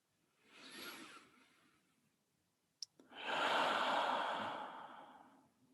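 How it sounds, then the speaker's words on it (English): Two deep breaths at a calm pace during guided meditation: a soft inhale, a pause with a faint click, then a longer, fuller exhale, close and quiet. "let's begin with 3 deep breaths in and out."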